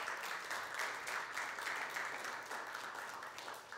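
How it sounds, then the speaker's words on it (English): At the launch event for a web series, a gathered audience gives the cast and crew a round of applause, steady and fairly soft as if heard from some distance, with a few louder swells and no speech. "Give yourselves a big round of applause."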